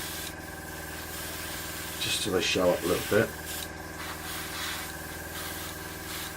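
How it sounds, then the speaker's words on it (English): An airbrush sprays red paint onto model engine mounts for a cradle or dolly, giving a steady close hiss that runs throughout while someone talks over it. "which I'm going to spray, actually going to spray red,"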